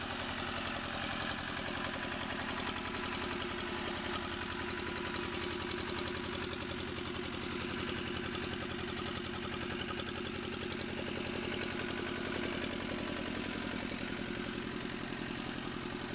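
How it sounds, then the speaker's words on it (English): A Snow 600-HP stationary industrial engine runs at a steady pace, its dense, continuous mechanical drone and fine rhythmic pulsing unbroken and loud throughout, with no voices. "this engine is engineered to perform consistently under demanding operating conditions"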